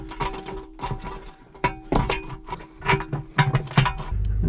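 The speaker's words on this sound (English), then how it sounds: "hold the wrench on this while I go underneath and tighten up these bolts" Wrench clicking and tapping in irregular bursts as bolts are tightened underneath a Kenworth T880 truck during a wet kit and PTO install, close, with metallic clanks and a low rumble toward the end.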